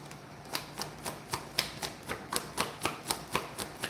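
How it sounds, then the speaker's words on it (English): A deck of tarot cards is shuffled by hand, giving a steady run of crisp, evenly spaced card slaps and clicks at close range, with no talking. "if I shuffle the deck 3 times and I get no card"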